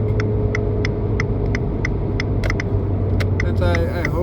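Engine of an Abarth Fiat 500 with a 1.4-litre four-cylinder, a steady loud rumbling drone with a constant low hum throughout, regular sharp ticks over it and a brief rising whine near the end.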